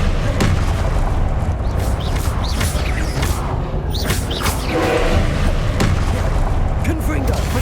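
Confringo blasting spells in the video game Hogwarts Legacy, a dense, loud run of booming impacts and crackling bursts during combat, with speech mixed in.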